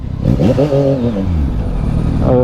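A 2023 Yamaha MT-09 three-cylinder motorcycle engine revs loud and close, its pitch rising and falling through several throttle blips before settling into a steady rumble.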